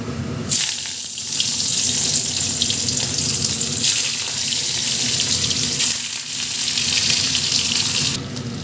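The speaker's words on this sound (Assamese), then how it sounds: "কেৰাহী পাতি দিছোঁ অকণমানি তেল দিছোঁ এতিয়া মই পনীৰখিনি ইয়াতে ভাজিম" Paneer fries in a little oil in a kadai with a loud, steady, hissing sizzle that continues throughout and is broken by a few brief dips.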